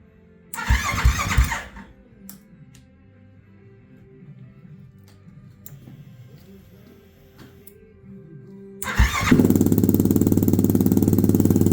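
A 2020 Yamaha YFZ 450 ATV engine on a build is started for the first time: a brief loud crank and cough, a quieter stretch with faint sounds, then the engine catches and runs loudly and steadily up close.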